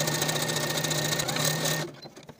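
Sewing machine running a basting stitch along a dress sleeve cap, a steady fast whirring hum held for about two seconds before stopping abruptly, close and clear with no talking.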